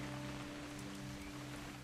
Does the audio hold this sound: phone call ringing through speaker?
no